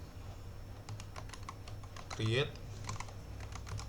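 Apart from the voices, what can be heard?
typing a command on a computer keyboard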